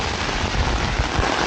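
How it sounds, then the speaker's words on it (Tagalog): Heavy rain pours down in South Korea, a dense, loud, continuous roar of drops pattering on surfaces with no pauses and no voices. "Malakas nga ang ulan dito ngayon."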